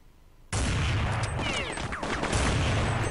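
Rapid gunfire from a Counter-Strike match on the de_train map, a loud dense burst of shots starting abruptly and continuing for a few seconds.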